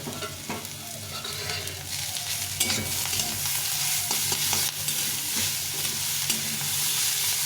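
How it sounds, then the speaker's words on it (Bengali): Chopped onion and grated carrot with cabbage stir-fried in a pan for vegetable fried rice: a steady close sizzle runs throughout, broken by irregular scraping and clinking strokes of a spatula against the pan. "এই পেঁয়াজটা দিয়ে গাজরটা দিয়ে দেবো, দিয়ে এটাকে ভালো করে ভেজে নেব"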